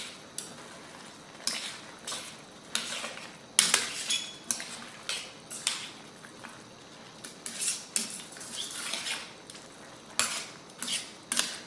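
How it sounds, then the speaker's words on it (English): Kung Pao chicken stirred in a pan with soy sauce and hoisin, a close utensil scraping and clinking against the metal in irregular bursts of strokes with short pauses between, no voices. "Let's stir this in real good."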